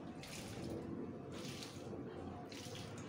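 Water poured over an aglaonema plant and its loose, porous potting mix, a steady pouring splash running throughout with three brighter surges of gushing water, close and fairly quiet.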